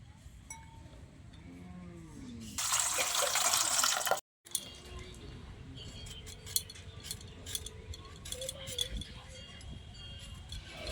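Large, freshly picked Malda mangoes are swished and rinsed in water, making a loud, splashy rush for about two seconds. After a brief gap come scattered drips and handling noises, with faint background voices.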